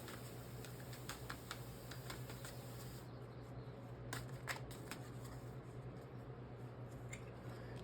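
Tarot cards shuffled and pulled from the deck during a reading, a run of soft, quick papery flicks and snaps close by over a steady low hum, with no talking.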